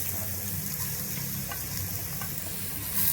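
Onions frying in oil in a kadai make a steady, close sizzle with faint stirring clicks throughout, no voices.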